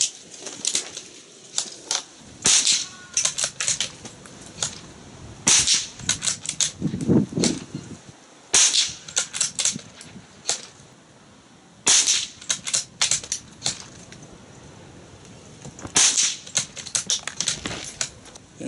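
A rifle firing CCI Stinger hypervelocity rounds in a target test, with sharp, sudden cracks in irregular clusters, each one ringing briefly, and quiet gaps between them.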